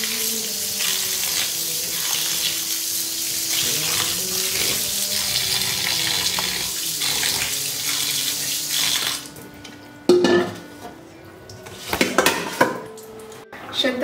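Cold water runs from a tap over boiled spaghetti in a sink, a steady broadband rush that stops near the end and gives way to clattering pots and utensils in a kitchen.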